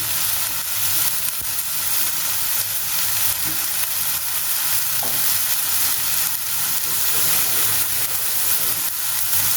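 Thin slices of boiled potato and eggplant fry in oil with a steady, close sizzle and crackle, broken by a few faint utensil scrapes, without any talking throughout.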